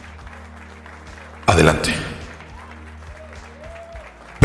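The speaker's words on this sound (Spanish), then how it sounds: "Fuerte aplauso." A short burst of applause in a FIFA 23 Ultimate Team pack-opening session, rising suddenly and fading over about a second, with someone talking before and after it.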